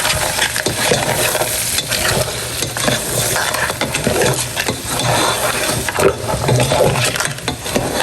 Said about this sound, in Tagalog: Atin lang po itong halo-haloin